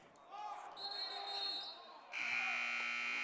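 A basketball game-clock buzzer sounds at the end of the first quarter of a boys' high school game, a loud sustained electronic tone over gym noise and crowd.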